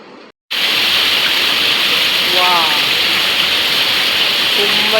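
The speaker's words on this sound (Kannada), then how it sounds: "ತುಂಬ ಜೋರಾಗಿ ಬರ್ತಾ ಇದೆ ಮಳೆ" Heavy monsoon rain pours steadily and loudly as a dense, unbroken hiss after a brief quiet start, with faint tonal sounds rising briefly in the middle.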